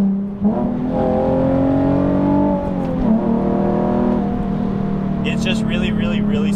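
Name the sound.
Nissan 370Z engine revving with cold air intake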